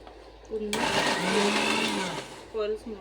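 A kitchen mixer grinder whirs loudly for about a second and a half as it grinds cashews with sugar, stops, and then gives a short second burst; a voice is heard faintly before and after the grinding.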